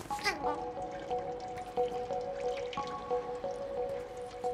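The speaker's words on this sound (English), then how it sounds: "It's dripping." Water drips in the video game Stray, a quiet repeating plink over soft ambient tones and a low hum, faint and close, with brief sounds of a voice at the start.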